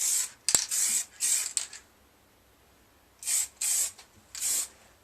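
Spray bursts from an aerosol tint can applied as a second coat to the front windscreen of a Suzuki Bandit 1200S motorcycle in a garage, several short hissing bursts in two groups separated by a quiet pause, close and fairly loud.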